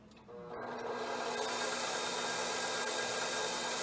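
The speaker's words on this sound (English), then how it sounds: "So first we will show you how the motor works without any attachment." A KitchenAid KV25G0XSL stand mixer with a 525 watt motor runs with no attachment, starting up and then holding a steady, even whirring hum close by.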